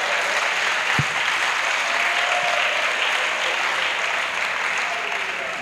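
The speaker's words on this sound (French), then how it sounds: "Acclamation." A church congregation gives sustained applause during a pastor's testimony, a dense steady wash of clapping with faint cheering voices mixed in, filling the whole stretch without a break.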